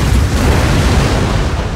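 Bikyeokjincheonroe explosive shells fired from catapults in the strategy game Shogun 2 burst in a dense, continuous roar of overlapping booms, loud and rumbling throughout.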